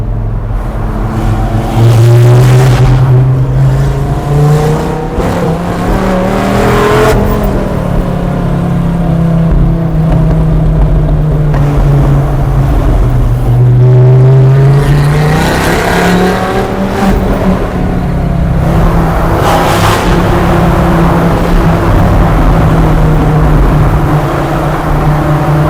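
Dodge Viper SRT-10 engine pulls hard as the car drives, its deep exhaust note rising and falling through repeated climbs in pitch, loud and close throughout with no talking.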